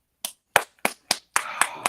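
Sharp hand claps, about seven distinct strikes in an uneven rhythm, the last few coming quicker together, close and loud with silence between the first ones.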